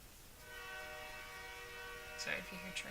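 A train passes at a distance, its horn sounding as a long sustained chord that ends in a couple of short blasts; the sound is faint and steady throughout.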